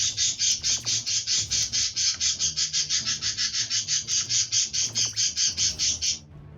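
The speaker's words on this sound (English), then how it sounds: "Man, that is one angry bird!" A repeated, loud squawking call from an angry bird enemy in the action roguelike game Wizard of Legend, rapid rasping bursts in steady rhythm, about twenty in a row over several seconds, with quiet game sounds underneath.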